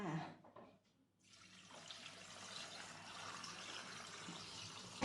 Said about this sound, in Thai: เทน้ำปลาเลยค่ะ